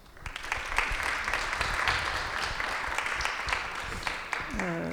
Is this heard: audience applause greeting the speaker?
yes